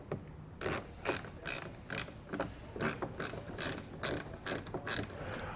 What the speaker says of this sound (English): And then we can go back and tighten down our bolts.